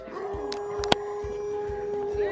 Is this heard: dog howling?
yes